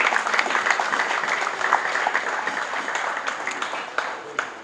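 Guests at a presidential dinner applauding warmly, a steady crowd of clapping hands with some individual claps standing out, gradually easing toward the end.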